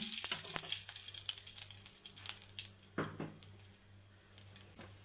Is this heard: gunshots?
no